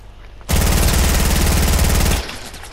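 A hunting rifle fires in Fortnite as a loud, dense burst of rapid gunfire lasting almost two seconds, then stops abruptly, leaving quieter game ambience.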